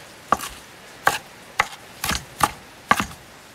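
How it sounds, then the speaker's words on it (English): A knife rough-chops cilantro on a cutting board with six sharp, separate thuds spaced about half a second apart, loud and close with nothing else heard. "Rough chop the cilantro"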